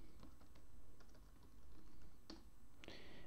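Keys tapped on a computer keyboard while entering SQLite commands, a close run of quick, light clicks in short bursts, with a couple of sharper key strikes near the end.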